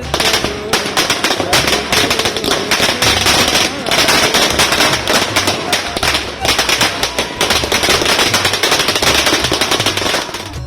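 Fireworks and firecrackers crackle in dense, rapid bursts during festive Ayodhya celebrations, a loud continuous rattle of pops sustained for about ten seconds with a few heavier thumps underneath.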